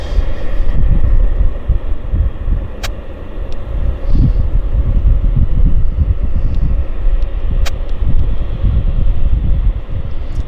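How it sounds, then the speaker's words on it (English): A Japan Airlines jet on approach from Narita at Vancouver airport gives a steady, broad low rumble of engine noise with wind buffeting, holding level and fairly loud throughout with no talking. "Jal is on approach from Narita, so we better get it."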